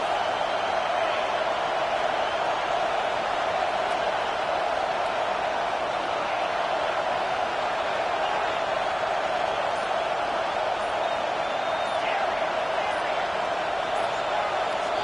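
Steady roar of a stadium crowd in a Madden football video game, loud and continuous as the home fans make noise on a third-down defensive play, with no clear breaks.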